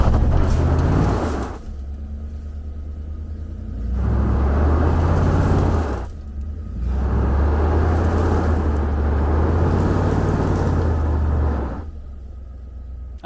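Off-road vehicle in 4 low with the differential locked, stuck among rocks in the Arizona desert, its engine revving hard in long, loud low-pitched surges, easing off briefly between pushes and then roaring again.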